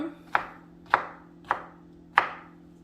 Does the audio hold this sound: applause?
no